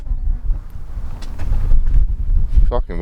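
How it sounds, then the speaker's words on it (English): Strong wind buffets the microphone on an exposed, freezing hilltop in the UK at sunrise, a loud continuous low rumble with gusts, while people talk briefly and faintly through it. "Maybe not, it's still fucking windy"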